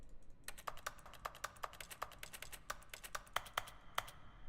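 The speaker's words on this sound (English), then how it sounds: "You're tapping on the keyboard as you move." Keyboard typing in the video game The Stanley Parable, a steady run of quick, crisp key taps at moderate volume with no voices.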